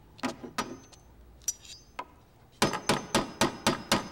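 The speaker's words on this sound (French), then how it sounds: "Est-ce que c'était le bruit de mon marteau?" Hammer banging in an animated cartoon basement workshop: a few scattered sharp knocks, then a fast run of six or seven loud, evenly spaced blows, close and alone.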